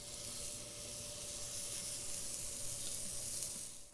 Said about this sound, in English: Oh, nice sizzle.